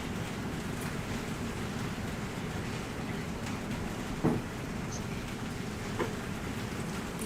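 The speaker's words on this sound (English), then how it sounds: "we're getting hail here at Weather Operations here in Hopkinsville. I can hear it hitting the roof" Hail pelting a roof during a severe thunderstorm in Hopkinsville, heard as a steady, dense rattling patter from indoors with a couple of sharper knocks standing out.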